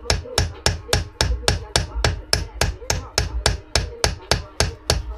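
A hammer taps a part into place while an engine for a Piaggio Typhoon scooter is assembled, about twenty evenly spaced, close, sharp knocks in a steady rhythm with no talk.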